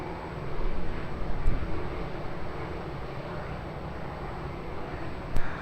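A jet airliner takes off from runway 20 at Lisbon Airport, a broad roaring rumble heard from a distance that swells slightly early on and then holds steady, with no voices.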